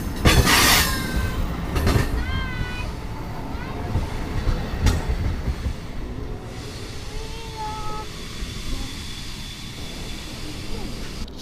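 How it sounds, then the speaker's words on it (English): Passenger train rolling on rails, loud and close, with rumbling, clattering wheels and high squeals fading as it runs on. "here I have Mackenzie, who just went on her first train ride"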